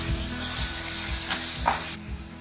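Chopped tomatoes and green chilies hit a hot pan for moong dal, a loud close sizzle with a few stirring scrapes that drops off abruptly near the end.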